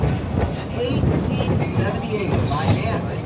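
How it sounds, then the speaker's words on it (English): A Roaring Camp Railroads train enters a 900-foot tunnel dug by hand in 1878, giving a steady, enclosed rumble of rail cars close to the tunnel walls while a voice talks over it. "As our train enters and passes through the 900-foot-long tunnel"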